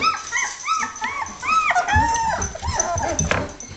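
Several 17-day-old puppies, their eyes newly open, whimper and yip in overlapping high, wavering cries, close and continuous for a few seconds.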